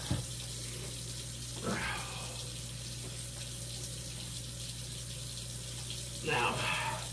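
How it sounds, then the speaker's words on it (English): Cold water running from a household tap into a sink, a steady faint stream with two brief louder surges of splashing, with no talking. "Now we're going to go get some cold water going."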